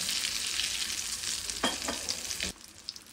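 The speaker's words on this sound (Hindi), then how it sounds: "इसी तरह आप इन सारे कबाबों को फ्राई कर लें।" Potato chutney kababs frying in hot oil, a dense continuous sizzle up close with a few brief clinks of a utensil, the bubbling dropping away near the end.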